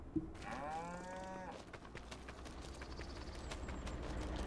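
A single drawn-out cow moo from a full barn of beef cattle in Farming Simulator 25, clear and fairly close, followed by faint hoof clops and low farm ambience.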